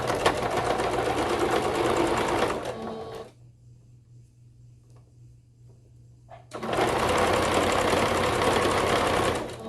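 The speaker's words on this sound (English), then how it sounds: "I'm just going to use a zigzag stitch, 5 width, 2 length, and then just zigzag this thing" A sewing machine runs a zigzag stitch on overalls fabric, a fast loud mechanical whirring for a few seconds, a pause with quiet handling, then another steady run of stitching close up.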